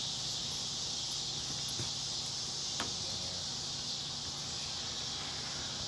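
Cicadas drone in a steady, high-pitched outdoor chorus around a Big Green Egg grill, loud and unbroken throughout, with no talk over it.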